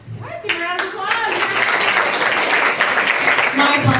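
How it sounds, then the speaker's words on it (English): Applause breaks out from an audience at a student council debate, a dense wash of clapping that rises within the first second and holds steady, with some voices mixed in. "give a round of applause"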